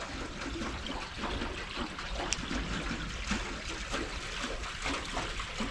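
Water rushes fast down a channel at the abandoned Stanley Moor reservoir near Buxton, Derbyshire. A steady, close, churning flow fills the whole stretch with no pauses.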